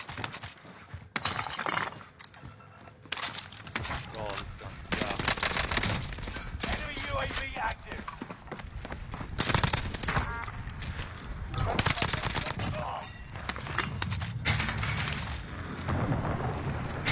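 Rapid bursts of video game gunfire crack through a busy, loud mix, with several volleys and shattering impacts spread across the stretch while a player's voice talks over the action.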